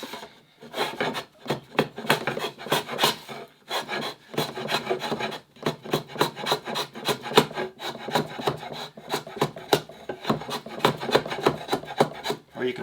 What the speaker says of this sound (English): using the corner of the slick to drive yourself along. You can see I'm kind of carving a little bit of a shelf each time